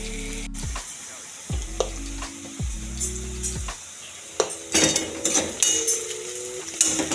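Small onions fry in a pan with a crackling sizzle, punctuated by clinks and scrapes of a utensil against the pan, with a tonal background sound running underneath.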